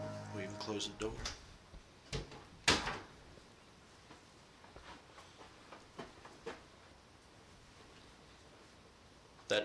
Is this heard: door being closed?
yes